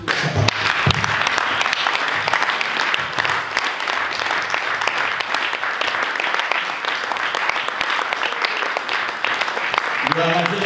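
A church congregation applauds to acclaim the Lord during a sermon, with dense, loud, sustained clapping that runs on without a break and voices mixed into the noise.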